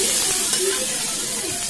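Ground onion and garlic paste dropped into hot oil with cumin while cooking sambar, producing a bright, continuous sizzling hiss up close, with a faint voice in the background.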